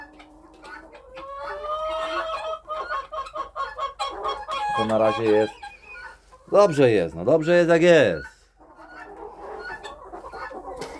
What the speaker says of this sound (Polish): Nowy towar zakupiony, nowe kury zakupione